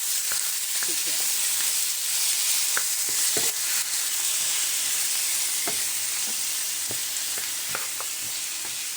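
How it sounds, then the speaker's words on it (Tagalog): Chicken sizzling in a pan with coconut milk as it is sautéed and stirred for ginataan, with steady frying hiss and scattered clicks of a spoon against the pan, close and continuous. "Sutay lang natin siya hanggang mag-brown."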